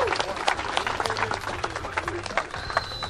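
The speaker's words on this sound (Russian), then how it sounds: "Аплодисменты!" Applause from spectators at an outdoor skate-cross event in Kharkiv: scattered, fairly close claps in an uneven patter, with voices talking over it.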